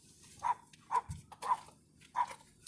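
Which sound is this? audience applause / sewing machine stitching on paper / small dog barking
small dog barking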